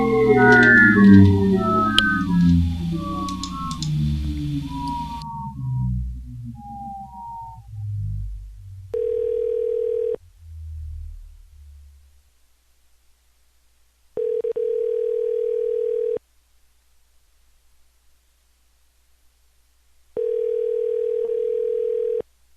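A telephone ringback tone sounds while a call is placed to someone, three long steady beeps at even intervals after a fading stretch of music, with silence between the rings.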